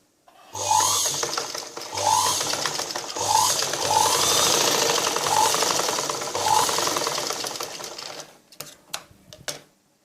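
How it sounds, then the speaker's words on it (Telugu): Sewing machine stitching a folded blouse piece, running steadily up close for about eight seconds with a rhythmic whir, then stopping, followed by a few sharp clicks. "ఈ విధంగా ఫోల్డ్ చేసుకొని స్టిచ్చింగ్ చేసుకోవాలి"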